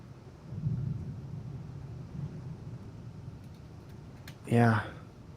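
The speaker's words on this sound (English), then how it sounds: "Oh, some thunder now." Thunder rolls during a live broadcast, a low, distant rumble that swells and fades across the clip beneath steady background noise, then a brief voice cuts in near the end.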